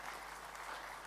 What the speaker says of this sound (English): a brief round of applause for all the class champions